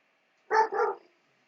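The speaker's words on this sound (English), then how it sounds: "My dog howling again." A single short dog vocalization set off by a passing train, a two-part yowl lasting about half a second, close by, with quiet all around.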